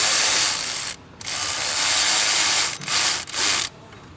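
Ratchet wrench tightening hose fittings on the front charge pipe during a 2014 injector install, a loud close buzzing run of rapid clicks broken by several brief pauses.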